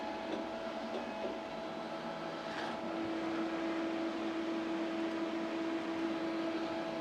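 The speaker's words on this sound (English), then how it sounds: "I'll turn the plasma on, as you can note out here." A plasma cutter on a CNC cutting table switches on partway through, bringing in a steady, fairly quiet electrical hum that holds to the end over low shop background noise.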